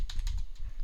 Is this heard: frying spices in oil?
no